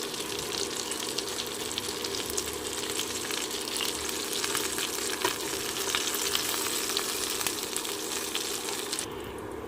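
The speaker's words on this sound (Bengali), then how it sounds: "একই তেলে বাকি মাছগুলো ভেজে নেব" Aar fish sizzles and crackles steadily in hot oil, a dense, even frying hiss that carries on without a break.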